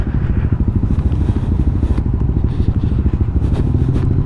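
A motorcycle rumbles steadily up close while riding over large rocks on a rough trail near Sitio Haduan, Clark, Pampanga, with constant rattling and clattering jolts over the engine's pulsing drone.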